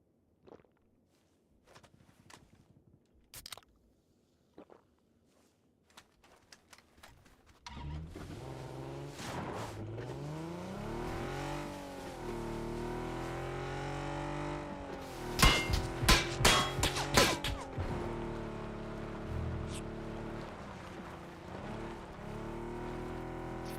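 A vehicle engine in the battle-royale shooter PUBG roars up and holds a steady, shifting drone with rising and falling revs, after a few scattered footsteps and taps. A cluster of sharp knocks breaks through midway.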